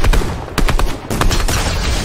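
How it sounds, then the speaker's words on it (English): Rifle fire from an AUG in a Fortnite arena match: several sharp, loud gunshot bursts spaced across the moment, close and punchy, with no talking over them. "Let's end the game on a double headshot with the AUG"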